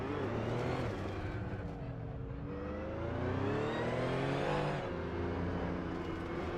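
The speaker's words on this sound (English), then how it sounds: "Aerotech is driving a 1983 Porsche 911 930 Turbo Dot." A 1983 Porsche 911 930 Turbo race car in a racing video game, its engine droning steadily and loud, pitch rising and falling through the gears with a long climbing rev, alone without voices.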